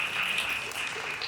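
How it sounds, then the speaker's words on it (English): An audience at an authors' event applauds, a brief, dense wash of clapping heard from across a room. "give her a round of applause"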